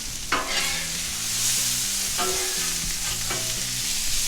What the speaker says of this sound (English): So onions starting to caramelize a little bit.